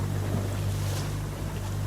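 Steady engine drone of a boat half a mile offshore off Pawleys Island, South Carolina, with constant wind buffeting and ocean wash underneath, continuous and close, no talk.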